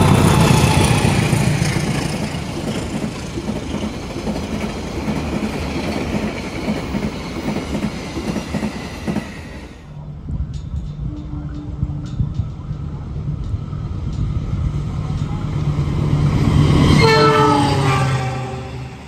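An Argo Muria passenger train in Indonesia, stopping at Batang station, runs loudly with a rumbling roll and clattering wheels that then ease off, followed by a long, sustained horn blast that swells near the end.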